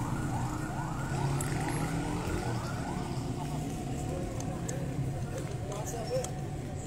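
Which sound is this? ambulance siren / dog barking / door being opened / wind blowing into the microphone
ambulance siren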